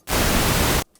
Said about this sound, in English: Here's your white noise.